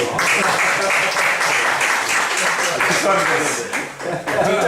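A university lecture audience claps steadily for a professor at a teaching-methods workshop, dense and close throughout with a brief dip near the end and a few voices mixed in.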